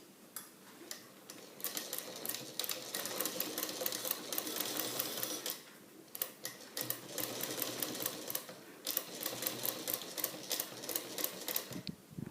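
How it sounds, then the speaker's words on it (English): A sewing machine runs a back stitch along the neck seam line of a shaped facing, its needle rattling in quick close bursts with brief pauses between runs, no talking. "So now start with the back stitch."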